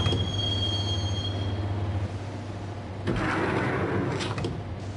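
Train ride in the video game Max Payne, a steady rumbling interior hum of a moving subway car with a high whine, then a louder rush of rolling wheels and faint squealing toward the end.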